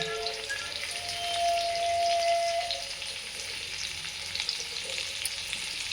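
Chopped garlic and green chilli sautéing in a pan for paneer chilli, a steady broadband sizzle running through the whole stretch with a faint thin whistle-like tone near the start.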